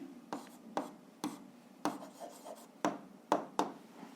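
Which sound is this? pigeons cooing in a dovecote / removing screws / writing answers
writing answers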